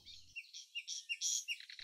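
High, thin chirps from common nightingale fledglings near the nest come in a quick string of short, close calls, faint and alone.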